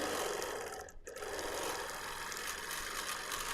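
A sewing machine stitches through the thick seams of a scrappy vintage quilt top, a close steady whirring hum with a brief dip about a second in.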